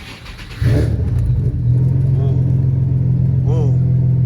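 A Nissan Maxima with a swapped 2018 HR engine, six-speed manual and cold air intake starts up and idles, giving a steady, close, loud engine rumble with a couple of light rev blips.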